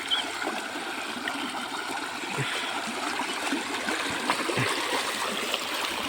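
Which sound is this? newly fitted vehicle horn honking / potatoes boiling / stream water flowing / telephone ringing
stream water flowing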